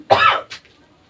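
A single harsh cough followed by a short second hack, close and loud, then quiet.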